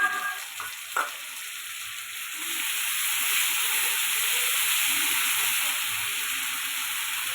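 Onions frying red in a pan for a Bengali mutton and potato curry give off a steady, close sizzling hiss that swells slightly after a few early clinks.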